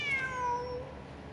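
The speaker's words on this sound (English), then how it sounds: "Meow. Wait, there it is! The cat!" A cat in the video game Genshin Impact gives a single clear, drawn-out meow that slides downward in pitch and fades into quiet.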